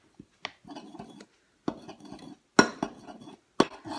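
A spoon scrapes and clinks against a bowl while chocolate Shakeology powder is mixed, in short, irregular bursts of knocking and scraping with quiet gaps between them.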